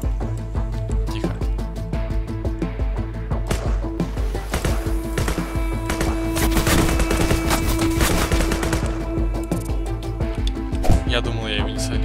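Automatic rifle fire in the game Sword With Sauce, rapid repeated shots in a dense continuous stream mixed with game music and impact sounds, with someone talking over it.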